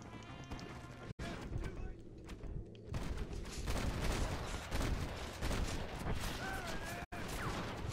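Rapid gunshots in Red Dead Redemption crackle through a dense game soundscape, bursts of fire layered with hoofbeats and other effects.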